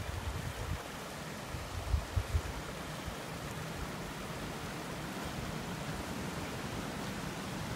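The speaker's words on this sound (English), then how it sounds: "Here's the creek." A creek in Indiana woods rushes in a steady broadband wash of flowing water, close and continuous, with a few soft bumps early on and no voices.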